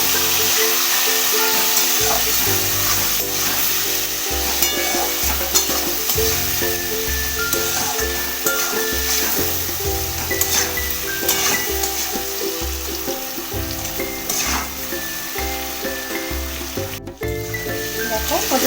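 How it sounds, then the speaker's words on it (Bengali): Potatoes and pointed gourd sizzle loudly in a hot pan with turmeric, stirred at intervals, a steady crackling fry under background music. "সুন্দর লাল লাল করে ভাজা হয়ে গেছে আলু পটলগুলো"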